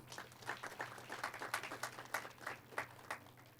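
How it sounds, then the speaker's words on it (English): Sparse, scattered clapping from a small graduation ceremony audience, a light patter of individual claps rising and falling over a steady low hum, fairly faint and without voices. "Can we clap for ourselves?"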